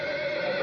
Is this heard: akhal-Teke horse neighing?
yes